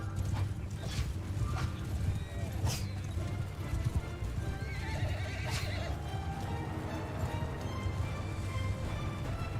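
In the video game Mount & Blade II: Bannerlord, cavalry horses whinny and hooves pound in a rumbling, continuous rush, with scattered neighs rising over the steady low thunder of galloping.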